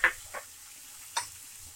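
Finely chopped tomato frying in a pan while being stirred for poha, with a few soft scraping ticks and a faint sizzle, close and quiet with no talk.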